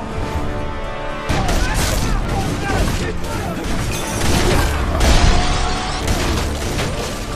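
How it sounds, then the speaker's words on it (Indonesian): Dense, chaotic gunfire and bursts of impact noise fill a busy action scene, with voices mixed in under the shooting. "Dan dari sinilah terjadi tembak-tembakan antara pria tampan melawan pasukan Red."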